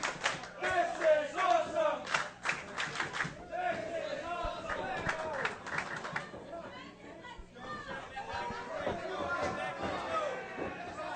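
Wrestling crowd at a WrestlePro event cheering and chanting, a loud dense roar of many voices with rhythmic bursts early on, then steady excited chatter and shouts, with a commentator talking over it.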